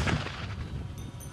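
A second controlled TNT detonation destroys unexploded artillery shells in Donbass: a heavy boom at the start gives way to a low rolling rumble that slowly fades, with no one talking.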